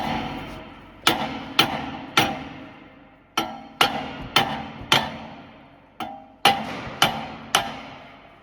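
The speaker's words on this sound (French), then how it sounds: "on va prendre un marteau pour le faire dégager" Hammer blows striking a seized rear brake disc on a Mercedes A-Class W177 to knock it free, about a dozen sharp metallic hits with ringing decay, loud and close, in uneven bursts of two or three, no talking.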